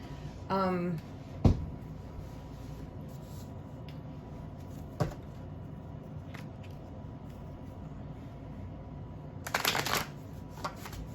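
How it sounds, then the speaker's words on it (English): Playing cards scattered and handled after being dropped on the floor, with a short riffling burst near the start, scattered taps and another flurry of card handling toward the end, over a steady low background. "Sorry, I dropped a whole bunch of cards on the floor here."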